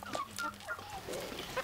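Chickens on a shepherd's farm in the Bakony region of Hungary cluck close by in short, soft calls over a rough outdoor background.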